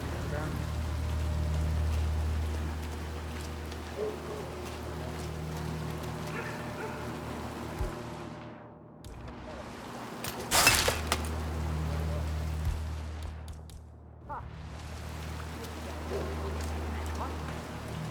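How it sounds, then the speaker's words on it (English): Steady rain in the video game Hitman 3, a dense hiss of falling water broken by sharp glassy clatters and short lulls, with voices talking over it. "Rain, rain, nothing but rain."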